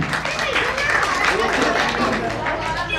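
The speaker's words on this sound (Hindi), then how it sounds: "तो ऐसे इस चैनल के लिए आप लोगों को भी जोरदार तालियां" Loud applause from a crowd gathered at a constitution general-knowledge quiz prize-giving ceremony in Kanpur, dense and steady for the whole stretch, with crowd chatter mixed in.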